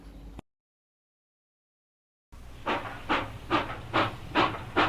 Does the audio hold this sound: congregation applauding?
no